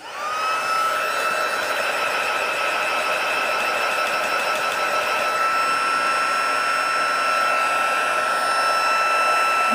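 Embossing heat tool blowing hot air over a craft card, a loud continuous whirring hiss with a steady high whine that holds unchanged from start to finish, alone with no talking.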